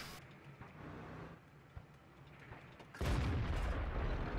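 A tank gun in World of Tanks fires with one sudden heavy boom near the end, after a quiet stretch of low engine rumble and faint distant thuds.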